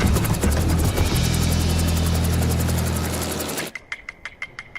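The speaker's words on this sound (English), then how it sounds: "A-star pilot Chris eases onto the new pad." An A-Star helicopter sets down on a freshly built landing pad at a logging block, its loud rotor and turbine roar close and steady for over three seconds before cutting off abruptly, leaving faint scattered knocks.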